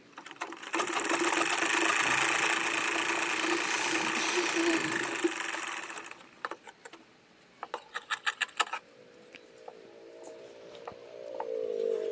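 Close up, a sewing machine runs steadily for about five seconds, stitching a double seam on a katori blouse. Sharp clicks and handling taps follow as the fabric is moved, and a voice talks faintly nearby.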